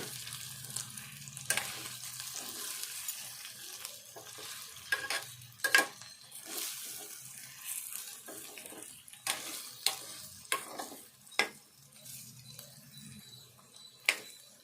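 Chicken gizzards being stirred with spices and coriander powder in a pan, soft scraping strokes over a quiet sizzle, with several sharper spoon knocks against the pan toward the end.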